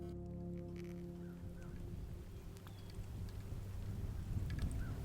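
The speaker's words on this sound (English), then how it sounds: "Thursday brought rain, and lots of rain." Rain falls steadily outdoors in the Midwest, a soft continuous hiss with faint patter that grows slightly fuller toward the end, over a low droning hum.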